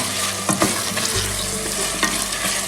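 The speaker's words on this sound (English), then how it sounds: "Stir that in" Mushroom mixture with garden onions and fresh basil frying in olive oil as a mince substitute, steady sizzle with a few scraping stir strokes, close up and without talk.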